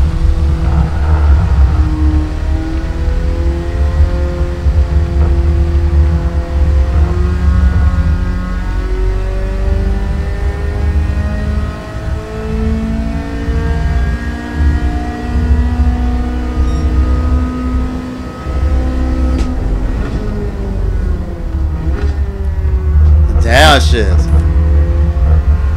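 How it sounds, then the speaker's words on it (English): Turbocharged Japanese front-engine rear-drive sports car engine in Gran Turismo 7, droning and revving steadily through gear changes with a sharp whoosh near the end, loud and continuous, with faint talk underneath. "I hear the turbo, man"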